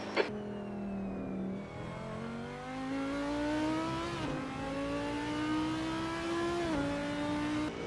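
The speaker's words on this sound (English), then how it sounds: "Take care, there's a car approaching." A GT3 race car in Assetto Corsa at Spa drones steadily with its engine note rising through gears and shifting, a continuous close in-car roar over eight seconds without speech.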